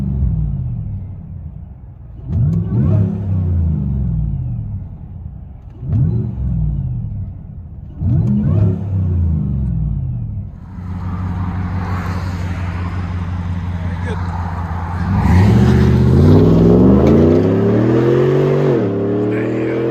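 Supercharged 6.2L V8 in a 2018 GMC Sierra Denali with a Magnaflow dual exhaust, heard from inside the cab: three short throttle blips rise and fall over idle, then a steady drone before a louder, longer rev climbs near the end.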